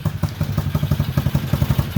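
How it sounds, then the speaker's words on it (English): A 1961 Sportrider motorcycle idles close by with a quick, even putt-putt, regular low thumps about eight per second, steady and unvaried for two seconds, with no voices. "Idling away. What a happy putt-putt."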